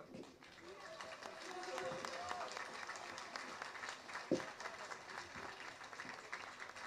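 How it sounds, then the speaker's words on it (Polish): Outdoor crowd at the 2012 Independence March applauds in faint, distant clapping, with a sharp clap or thump near the middle and a low crowd murmur throughout. "Słuchajcie, oklaski, bo Paula się trochę stresuje"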